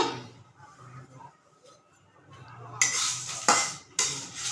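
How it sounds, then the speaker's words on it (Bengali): Cardamom, cinnamon, bay leaf and whole spices are dry-fried in a pan over low heat, with faint scraping at first and then several louder, sharp clinks of a metal spatula stirring against the pan. "আর একটু আঁচ কমিয়ে দিয়ে শুকনো করে কমিয়ে দিয়ে শুকনো করে ভাজতে হবে মেনলি পাঁচফোড়ন তেজপাতা"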